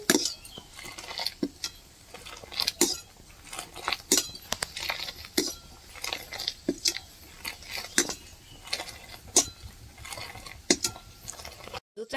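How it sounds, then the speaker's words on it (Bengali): A spoon stirring and scraping inside a pot of boiling cow's milk being thickened for homemade yogurt, irregular metallic clinks and scrapes repeating throughout at close range over a low simmering background. "সবসময় একটা চামচ নিয়ে এইভাবে ঘাঁটতে হবে।"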